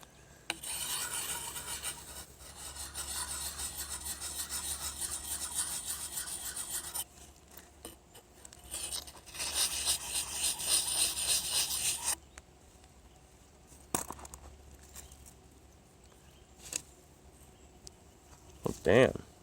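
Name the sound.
sharpening a knife with a sharpening puck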